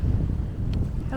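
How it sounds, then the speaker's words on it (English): Wind buffeting a microphone on an Alaskan trail near water, a steady low rumbling roar throughout the short moment, loud and close with no speech. "A little windy."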